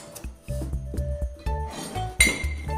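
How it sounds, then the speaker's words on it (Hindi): Kitchen utensils clink and clatter repeatedly as a child pulls them from a box, sharp metallic knocks in uneven bursts close by, with one louder crash near the end. "लगता है तेजस इतने ही बर्तन निकालेगा"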